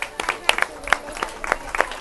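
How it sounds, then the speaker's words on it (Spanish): A small crowd in El Mayeto park claps in scattered, uneven bursts of a few hands. A voice talks over the claps at moderate loudness. "Vamos a darle un aplauso para allá"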